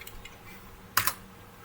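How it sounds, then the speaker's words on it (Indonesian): Keys tapped on a computer keyboard, faint scattered clicks followed by a sharper pair of close keystrokes, quiet and with no talking. "Habis itu ketik tugas."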